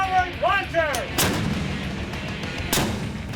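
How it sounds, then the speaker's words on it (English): Chaff launcher on a Royal Canadian Navy warship firing during an anti-missile drill: two sharp, loud blasts about a second and a half apart, each with a rumbling tail, following a brief burst of radio-like voice chatter. "Starboard, forward, launcher!"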